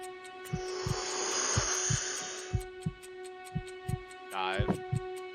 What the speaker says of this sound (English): Just have the heartbeats.